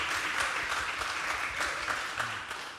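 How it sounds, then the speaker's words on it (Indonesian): A group claps for Bang Victor at an event: a short, dense burst of applause from a fairly close crowd that fades slightly toward the end. "tepuk tangan dulu untuk Bang Victor"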